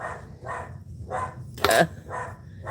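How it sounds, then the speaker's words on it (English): A dog barks repeatedly at a truck it does not recognize, about five evenly spaced barks at moderate distance with one sharper, louder bark in the middle. "the dog is barking"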